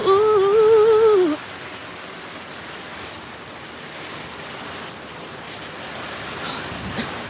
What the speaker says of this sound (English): this is the longest it had rained in a long time